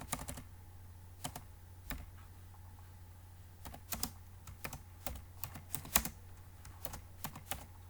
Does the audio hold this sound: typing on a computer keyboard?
yes